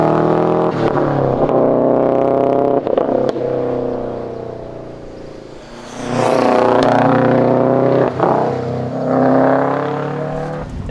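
An MBRP exhaust on a 2015-2021 Subaru WRX/STI revs up and settles in several aggressive bursts, loud and close, with a rasping drone between pulls.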